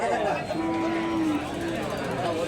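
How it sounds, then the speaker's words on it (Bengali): A dairy cow at a cattle market lets out one long, loud, close moo that holds steady for about a second, with faint crowd murmur in the background. "এই যে দেখেন গরুটা"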